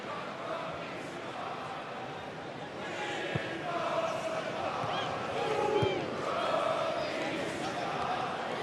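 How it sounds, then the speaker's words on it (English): A football stadium crowd at an A-League match between Auckland FC and Perth Glory hums with a steady, expectant murmur and scattered shouts just before half-time, with a voice talking over it throughout. "Crowd in anticipation of a dam-bursting goal before half-time"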